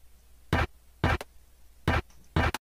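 Snare-like hits made from a Call of Duty ray gun sample, four short bright bursts in an uneven beat pattern, the second and fourth each followed by a quick extra tick, moderately loud with nothing else playing.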